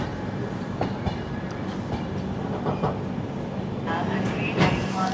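Aboard the Trivandrum–Veraval Express as it rolls into Keshod station, a steady loud rumble of carriages with rhythmic clacks and squeals of wheels on rails.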